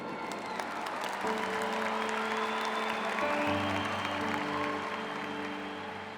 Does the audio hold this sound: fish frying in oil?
no